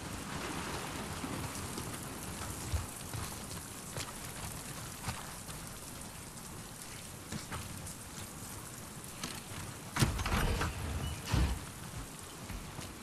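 Steady rain patters and hisses across the surroundings in The Last of Us Part II, with a few louder splashes and thuds near the end, and no voices.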